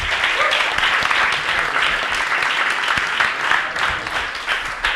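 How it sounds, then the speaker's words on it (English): An audience applauding a debate panel, dense sustained clapping filling the room at full volume throughout. "Okay, I think a round of applause for our panel."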